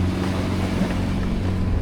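A sailboat's diesel engine runs steadily at sea, a low continuous droning hum with a regular throb, up close and loud, with wind and water noise around it and no talking.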